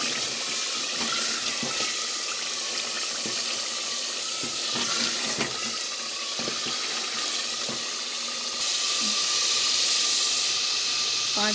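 Okra and meat for bhindi gosht fry in a pot on a gas stove, giving a steady bright sizzle and hiss with scattered small pops throughout.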